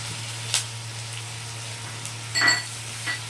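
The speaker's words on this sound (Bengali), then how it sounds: "এগুলোকে আমি একটু ভালো করে ভেজে নিচ্ছি সঙ্গে কাঁচা লঙ্কা কুচিগুলোও দিয়ে দিলাম" Ginger and chopped green chillies frying in a pan with cumin, a low steady sizzle under a few clinks and scrapes of a spatula against the pan, no voices.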